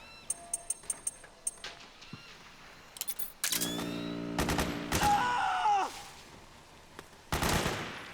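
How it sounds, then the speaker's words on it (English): Bursts of suppressing gunfire in the video game Metal Gear Solid 4, with a rapid series of sharp shots followed by heavier sustained automatic fire and loud clattering volleys, close and intense. "Suppressing fire! Suppressing fire!"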